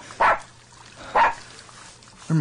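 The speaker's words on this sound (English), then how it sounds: "let someone hear him barking." Two short barks from a dog, spaced about a second apart, with a third starting at the end, over faint background noise.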